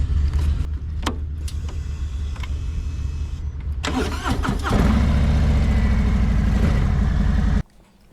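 Harley-Davidson Highway King motorcycle engine cranking and firing up, then settling into a loud, steady idle rumble up close, cutting off abruptly near the end.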